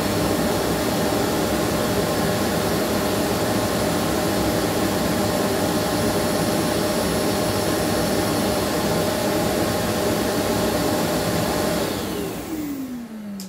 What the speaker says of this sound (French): Et une fois que j'appuie, ça démarre l'aspirateur.